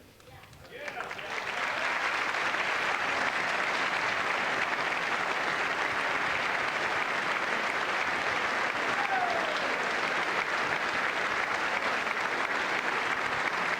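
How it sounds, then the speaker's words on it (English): Sustained, dense applause from a large audience at the State of the Union, rising over the first second and then holding steady and loud throughout, with no clear talk on top. "they're getting up and applauding"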